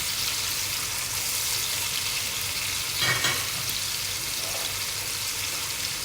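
Ingredients for Egyptian koshari sizzle steadily in a pan during a light sauté, a constant frying hiss with a brief, louder stirring swell near the middle and no talking.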